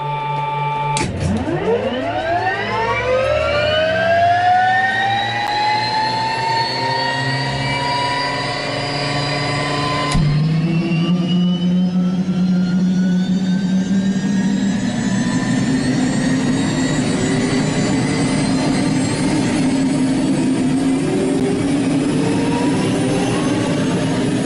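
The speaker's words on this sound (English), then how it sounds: "With the hum of an Allison turbo shaft in the background" A Bell 206 JetRanger helicopter's Allison turboshaft engine starts up, a rising turbine whine sweeping upward and settling into a loud, steady high-pitched hum, then a second surge as it spools further, close and continuous with no talk.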